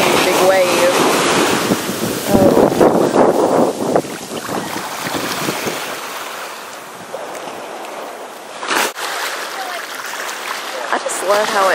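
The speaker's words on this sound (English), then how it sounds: "Big wave." Ocean waves breaking and washing in at a beach on Aruba, a loud rushing surf with wind buffeting the microphone, swelling and receding over several seconds while a person talks over it.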